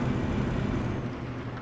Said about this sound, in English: But I think the rain is slowly actually dying down